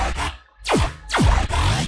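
Dry Serum bass synth using a wavetable, heard without post-processing: growling tones with downward pitch swoops, moderately loud and alone.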